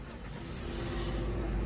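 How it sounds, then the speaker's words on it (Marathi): Car engine turning over with the starter after a jump-start for a dead battery, a short rising mechanical whir that builds into a low engine rumble, close and alone. "आता स्टार्टर मारून बघूया जरा."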